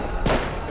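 A rocket launcher fired during a base fight in the survival game Rust on a snowy map, a single short, loud whooshing blast that rises out of quieter background noise.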